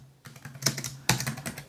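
Fast, close typing on a computer keyboard while writing in a Python NumPy notebook cell, with irregular bursts of sharp key clicks and a couple of louder strikes, no talking.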